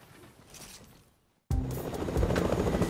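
A helicopter in the Fortnite battle royale game flies on, its engine and rotor noise rising into a loud, steady roar after a brief quiet gap.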